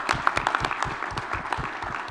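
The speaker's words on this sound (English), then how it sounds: "giving our teams and our visiting panelists a round of applause" Attendees at a board offsite strategic planning meeting applaud the teams and visiting panelists, a moderate patter of scattered hand claps from a modest group in a room.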